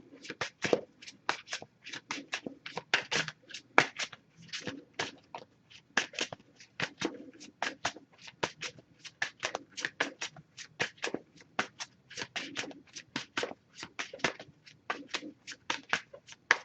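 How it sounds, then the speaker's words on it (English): Oracle card deck being shuffled by hand, a steady run of quick papery riffles and flicks that carries on for the whole stretch, close and clear with no talking. "I'm just going to pull a single card from here."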